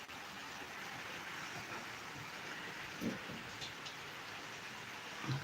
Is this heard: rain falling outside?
yes